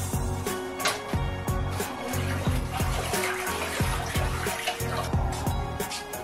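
Almond milk poured into a bathtub of water, a steady close trickling and splashing pour that runs continuously with faint rhythmic thumps underneath.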